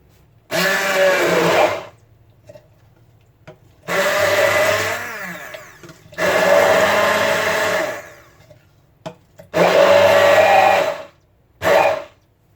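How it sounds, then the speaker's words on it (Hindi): A kitchen blender whirs through mangoes for jam in four or five separate runs, each a loud, close motor whine lasting one to two seconds, broken by short quiet pauses. "ये मैं इसकी मदद से जो है मैं इसको ब्लेंड कर लूँगी।"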